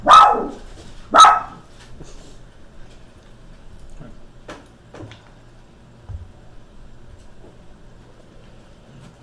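A dog barks twice sharply and close at the start, followed by quieter scattered barks and low growling noises over a faint indoor background.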